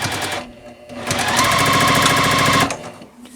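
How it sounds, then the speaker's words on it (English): A sewing machine stitches a triangle onto the bottom of a basket quilt block. A short, fast, rhythmic run of needle clatter swells in the middle and is framed by quieter moments before and after. "On this bottom of the basket, I'm going to sew this triangle on."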